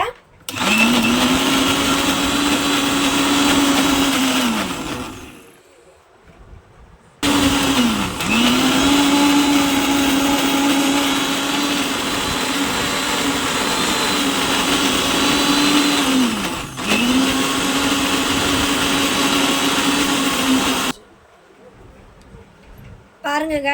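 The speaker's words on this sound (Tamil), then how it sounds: "இப்போ நம்ம இஞ்சி பூண்டு அரைச்சி எடுத்துடலாம்" A mixer grinder grinds ginger and garlic into a paste with a loud, steady motor whine. It runs in long bursts that wind down, then stop briefly, before starting up again.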